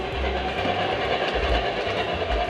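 A 1940s–60s American Flyer S-scale model train runs along a large layout, making a continuous rumbling rattle with low rhythmic clicking of wheels over track joints.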